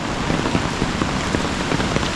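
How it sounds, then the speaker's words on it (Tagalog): Heavy overnight rain pours steadily on a farm where water buffalo are kept, a dense, even hiss with scattered drop patters close by and no voices. "Magdamag yung ulan dito sa amin."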